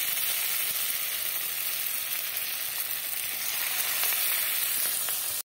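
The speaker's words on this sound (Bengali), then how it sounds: "কড়াইতে সাদা তেলটা গরম করে নিয়েছি। এবার এক এক করে আমি এই চপগুলো ছেড়ে দেব।" Loud, dense sizzling of fritters made with elephant foot yam leaves frying in hot white oil in a wok, a constant crackling hiss from start to finish.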